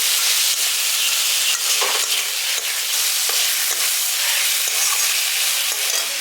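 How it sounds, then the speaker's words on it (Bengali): Potato curry fries loudly in a pan after kasuri methi goes in, giving a bright, constant sizzle up close. A utensil scrapes through it in repeated stirring strokes, and no voices are heard. "কসুরি মেথিটা দিয়ে এটাকে আবার ভাজা ভাজা করে নিয়েছি"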